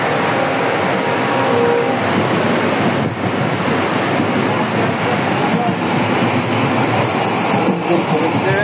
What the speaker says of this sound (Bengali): ট্রেনটা একটু ঘুরে দেখাই। ট্রেনের ভিতর কেমন পরিবেশ।